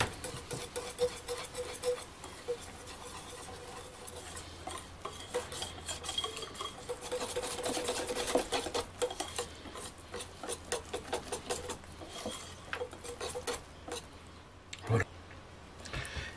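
A spoon or whisk scrapes and rasps round a bowl of batter made from flour, baking powder, salt and lemon, a continuous close rubbing stir with small ticking knocks.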